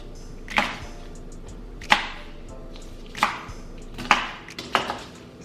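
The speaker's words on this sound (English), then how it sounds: "Okay, just cutting those pieces off. Give a few chops into our blender." A knife chops celery stalks into pieces on a cutting board, five distinct sharp chops spaced about a second apart in a quiet kitchen.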